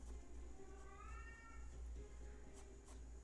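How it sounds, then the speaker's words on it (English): A house cat meows once, a faint drawn-out call heard indoors under steady room hum, with no talk. "I think my cat agrees."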